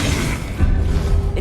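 Confringo fire blast spell exploding in Hogwarts Legacy, a dense roaring boom with a heavy low thud midway, loud and continuous amid game effects.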